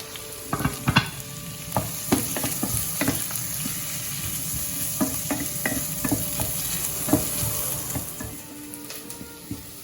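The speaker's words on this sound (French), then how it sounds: "هلا رح اقلي البصلات" Onions and garlic frying in a small spoonful of butter, a steady sizzle running throughout with frequent sharp clicks and scrapes of stirring, fairly close.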